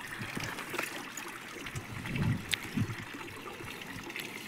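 Cows drinking their fill of water after grazing, with soft trickling and lapping slurps, a couple of louder gulps in the middle against steady outdoor background noise.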